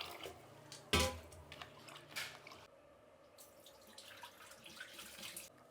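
Soaked ragi grains being rinsed again in a vessel, water splashing and trickling with one sharp knock early on, then soft intermittent sloshing at low volume.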